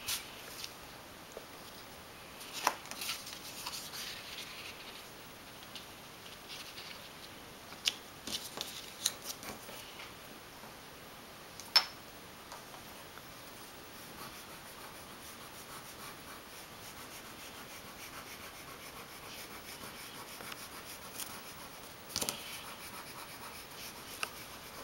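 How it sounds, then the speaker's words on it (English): Chalk pastel being smeared across black paper, a faint, steady dry rubbing and scratching with occasional sharper scrapes, close and quiet throughout. "you're just going to smear the chalk pastel up so it gives kind of a glow"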